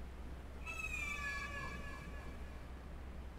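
A tomcat in a German audio drama gives one drawn-out, wavering meow that rises and then slowly falls, heard alone and close over a steady low hum.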